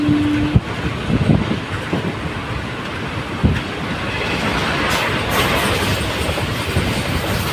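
The Punalur Madurai Express runs along the rails with a steady rumbling roar and rhythmic wheel clatter, heard from inside or close by. It holds loud and even throughout, with a few sharper knocks and no talking.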